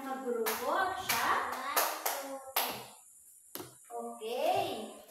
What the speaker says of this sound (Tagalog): Bigyan ng 3 palakpak ang kanyang kagrupo at siya.